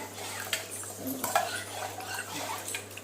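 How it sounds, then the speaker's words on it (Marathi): A spoon stirs kadhi, buttermilk mixed with turmeric, in a metal pot: soft scraping and light clinks against the pot, quiet and close, with faint background hum. "असं हलवून घ्यायचं"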